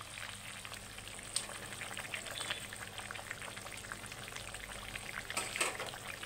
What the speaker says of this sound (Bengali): দিয়ে আমার ঝোলটা আর একটু ফুটতে দেবো।